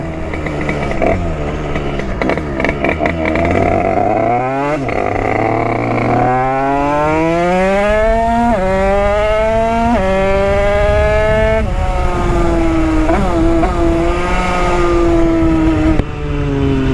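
A loud Derbi 80cc motorcycle engine with an AC DEV exhaust revs up and down repeatedly in the rain, pitch climbing in long sweeps and dropping between shifts, steady and close throughout with no voices.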